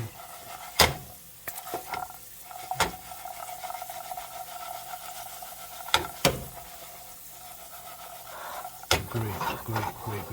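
Plenty of ginger fries in a pan with a steady soft sizzle, broken by sharp knocks and scrapes of a utensil against the pan at uneven intervals.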